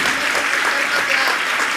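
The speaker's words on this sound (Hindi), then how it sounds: "एक बार जोरदार करतल ध्वनि।" Loud, dense applause from an audience at a Jain monk's religious discourse session, steady and close throughout with no gaps.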